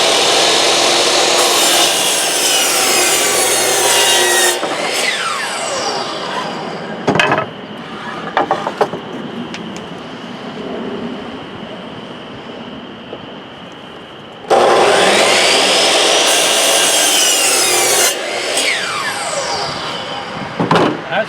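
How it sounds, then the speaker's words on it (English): A miter saw bites through wood in two loud bursts of whining cutting, with quieter scraping and handling noise between them. "Get nice straight cuts with the miter saw."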